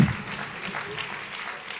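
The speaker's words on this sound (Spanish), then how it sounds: "Dale otro aplauso fuerte a la gloria de Dios." A church congregation claps together in steady, moderately loud applause, a short continuous patter with a voice faintly beneath.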